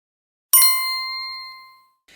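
A single bright bell ding rings out after a moment of silence, its clear tone lingering and slowly fading over about a second.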